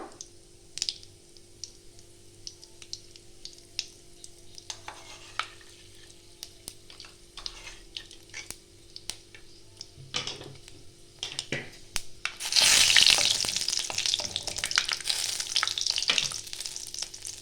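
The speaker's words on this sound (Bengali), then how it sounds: "তেলটা একটু গরম হবে। দিয়ে দিচ্ছি একটা শুকনো লঙ্কা" A single dried red chilli goes into hot oil with five-spice seeds while cooking Bengali vegetable chops. Quiet stirring and faint sizzling give way to a sudden loud burst of crackling frying that settles into a steady sizzle.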